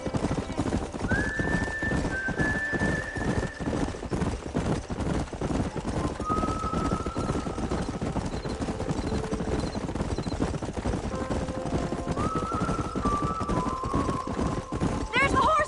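Horses in Red Dead Redemption run through a dense, busy game mix with steady hoof clatter and occasional whinnies, while characters talk over the scene and music plays throughout.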